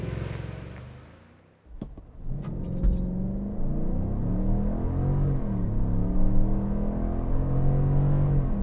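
A 2025 GMC Yukon Denali's naturally aspirated 6.2-liter V8 in sport mode: after a brief near-silent dip, the engine swells into a loud, steady, deep rumble that builds with rising revs as the SUV accelerates, with no talk over it.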